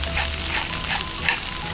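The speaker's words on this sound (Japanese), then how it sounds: "豆腐でこう混ぜこぜにしていきます。" Tofu fried rice tossed and stir-fried in a hot pan, a dense continuous sizzle with soft scraping strokes of a spatula, close and fairly loud.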